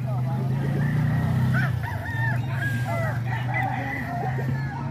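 A White Night Peruvian rooster crows close by, one long drawn-out call followed by broken, wavering notes and clucks, with people talking in the background throughout.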